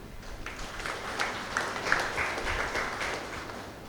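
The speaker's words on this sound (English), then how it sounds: "Please clap for him." Mourners at a eulogy for Brigadier General Charles Oluka clap in a soft, steady wash of applause from a gathered crowd, holding at an even level throughout.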